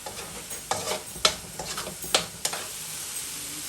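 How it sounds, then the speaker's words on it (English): Masala frying in oil for Guyanese katahar and shrimp curry, a soft steady sizzle with a handful of sharp spoon stirs and scrapes against the pot, close and alone. "you're gonna allow this to fry for about 4 to 5 minutes, or until you see the oil starts separating from the masala"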